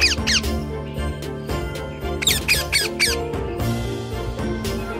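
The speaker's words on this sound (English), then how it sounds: "This is a parrot." A parrot gives repeated sharp, high squawks and squeaks in bursts, loud and close, over a steady background of music.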